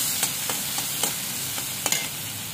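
Taro leaves from a rooftop garden frying in oil, with a continuous hiss of sizzling and a few soft clicks of stirring spread across it.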